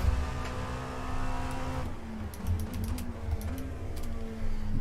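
A race car engine in the iRacing sim whines at moderate volume during a multi-class endurance race, its pitch shifting as it pulls past another car, with no talk.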